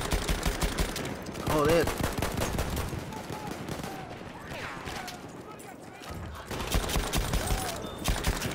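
Rapid bursts of Chauchat light machine gun fire in Battlefield 1 rattle almost continuously over battlefield noise, loud and close, while someone talks and swears over the shooting.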